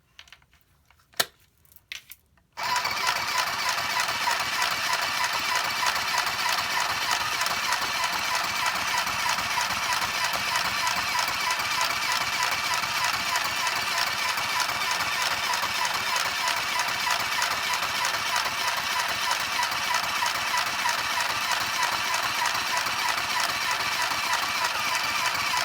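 A small sewing machine runs with a steady, even mechanical whir that starts after a brief moment of quiet and continues unbroken at moderate loudness to the end.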